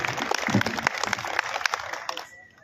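Audience at an Awadhi-language poetry gathering claps steadily and loudly for a couple of seconds before the applause trails off, with some voices mixed in.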